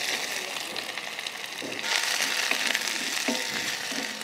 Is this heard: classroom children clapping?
no